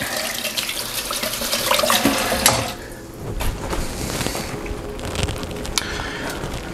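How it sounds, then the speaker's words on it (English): Running water from a kitchen tap splashes over a spoon being rinsed, a steady rushing flow with brief clinks and changes in pitch as the spoon moves under the stream. "Rinse this spoon off real quick."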